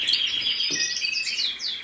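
Caged birds such as mosaic canaries chirp and tweet continuously, with bright overlapping high calls and rising trills, close and fairly loud with no talk.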